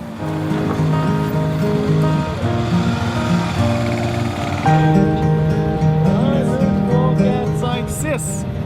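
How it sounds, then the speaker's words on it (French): Small rowboat carrying five motorcycles across a river in Guatemala, with a steady engine drone and water wash throughout, close and fairly loud, plus a few faint higher tones near the end. "Mais il faut mettre 5 motos sur la petite barque qui est là."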